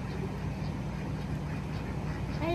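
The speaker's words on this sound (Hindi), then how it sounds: "यहाँ बतखों का अलग खेल चल रहा है" Ducks quack at a rescued animal farm, repeated nasal calls over a steady outdoor background, moderately close, with no clear talk.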